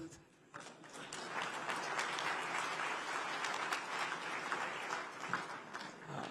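An audience applauds at the GCCI oath-taking ceremony in Ahmedabad attended by Gujarat's chief minister, a dense, sustained round of clapping that swells after a brief lull and continues steadily to the end.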